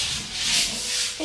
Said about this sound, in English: take your little scrubby brush and scrub it into the grout